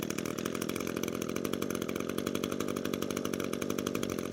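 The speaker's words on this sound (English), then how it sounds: "And then we'll pull the recoil 2 to 3 more times and it should fire." An ECHO string trimmer's small two-stroke engine has just fired and runs steadily at a fast, buzzing, even idle, close and constant with no voices.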